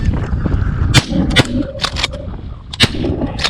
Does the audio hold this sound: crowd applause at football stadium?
no